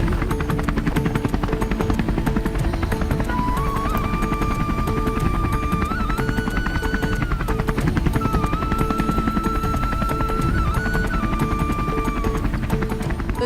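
A helicopter flies along the Amarnath Yatra pilgrimage route in the Himalayas, its rotor chop and turbine whine steady and loud throughout, with a thin tonal whine rising and wavering above the drone.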